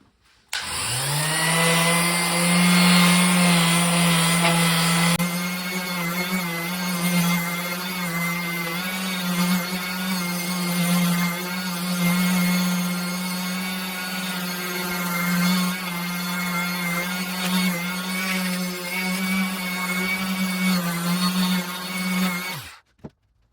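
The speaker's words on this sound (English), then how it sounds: "Now I'm going to hit it with some 1200 grit sandpaper." A power sander with 1200 grit sandpaper runs over a rusty cast table saw top, a loud steady motor whine and droning hum that starts abruptly, holds for over twenty seconds, then cuts off.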